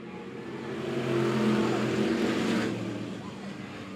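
B Modified race cars roar around the Monett Motor Speedway oval at the green flag, a loud blended engine drone swelling and fading as the pack passes, with a commentator's voice running underneath.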